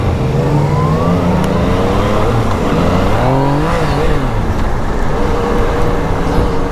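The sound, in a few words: Yamaha FZ-09 motorcycle riding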